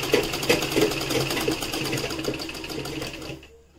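A sewing machine stitches a neck seam on fabric in one continuous fast run lasting a few seconds, loud and close, then stops abruptly, with no talking over it.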